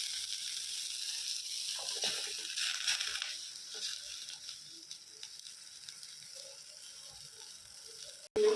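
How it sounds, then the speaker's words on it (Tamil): Ground tomato-garlic paste goes into a pot of boiling tamarind rasam with a soft, steady hiss and faint bubbling pops, ending in a sudden sharp knock. "இந்த தக்காளி, பூண்டு அரைச்சி ஊற்றிருக்கிறோம்"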